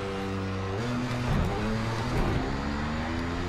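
A 2016 Audi R18 race car at Bathurst in Project Cars 3 drones with a steady, fairly loud engine tone that climbs and drops as it shifts through gears, with no talking over it.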